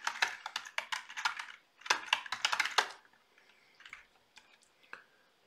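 Fast bursts of clicking keystrokes on a computer keyboard, close and fairly loud, coming in two dense runs separated by a short pause, then thinning out to a few scattered taps at the end.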